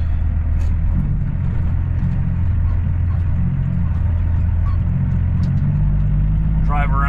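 A truck drives off the road onto a farm field with no driveway, its engine giving a steady, close, low rumble that holds throughout with little change.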